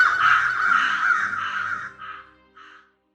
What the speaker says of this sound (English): the crows watched and laughed overhead